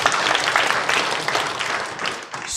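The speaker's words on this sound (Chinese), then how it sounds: "拍手感谢上帝" A church congregation at a Mandarin Sunday service clapping together in thanks, a dense, steady burst of hand claps from many people filling the hall throughout.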